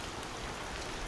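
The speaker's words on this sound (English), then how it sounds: "Not today though, on this very rainy day." Heavy rain falls outdoors near a beehive on a very wet early-spring day, making a dense, steady hiss of drops pattering on surfaces, with no talking.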